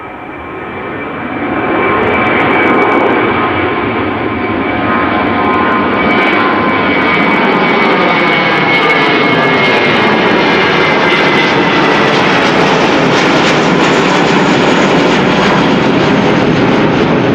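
An Embraer 190 jet departs Amsterdam Schiphol for Zurich, its engine roar swelling in the first two seconds and then holding loud and steady, with a whining high tone and slowly shifting pitch as it passes.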